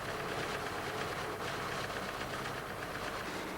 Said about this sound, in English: Once the engine is up to temperature, that is, when the thermoelectric fan starts cutting in and out, you can set the idle speed.